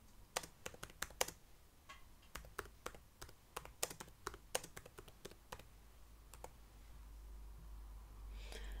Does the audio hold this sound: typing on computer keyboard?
yes